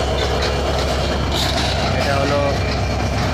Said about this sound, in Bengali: যাচ্ছে আন্তনগর চিলাহাটি থেকে ছেড়ে আসা ট্রেনটি মাত্র এখন ঢাকার দিকে যাচ্ছে